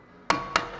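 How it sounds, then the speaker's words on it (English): Three sharp metallic hammer strikes on a manual impact driver loosening Phillips screws on the front brake of a 2007 Hyundai Santa Fe, spaced evenly and ringing briefly after a quiet start. "I get an impact driver. I'm going to put it in there and kind of turn it counterclockwise and hammer on it."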